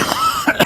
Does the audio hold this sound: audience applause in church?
no